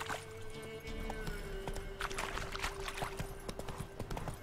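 Hoofbeats of Roach, Geralt's horse in The Witcher 3, clip-clopping in a steady rhythm, close and moderately loud over a low game music drone, with a brief snort or whinny.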